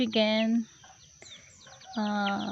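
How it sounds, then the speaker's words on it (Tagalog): Chickens clucking in a home garden, two clear bursts of harmonic calls near the start and end with quieter rustling between, close and fairly loud. "Tapos yung manok, chicken."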